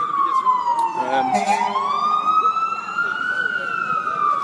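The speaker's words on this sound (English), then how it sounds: "Oh dear, we've got an ambulance, so we'll just wait a minute." An ambulance siren passes along a New York street, loud and close, its wail dipping sharply and then climbing back into a sustained rising tone, with a brief burst of nearby talk partway through.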